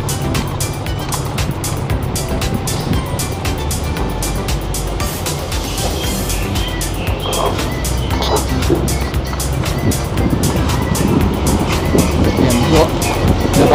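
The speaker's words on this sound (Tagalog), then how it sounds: "Napaka-traffic dito mga idol." Heavy Sunday street traffic on a cobblestone road, a dense continuous wash of car and engine noise with frequent rattling bumps and someone talking over it.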